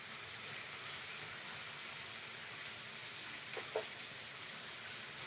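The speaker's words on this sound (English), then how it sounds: "That is Clinton cooking dinner." Dinner frying in a pan in a nearby kitchen, a faint, steady sizzling hiss running unbroken throughout with a couple of tiny clicks near the end.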